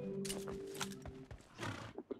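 Horse neighing in the BGMI mobile battle royale game, a brief whinny mixed with clip-clop and game noise, heard alone without talk.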